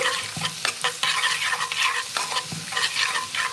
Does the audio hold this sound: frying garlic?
yes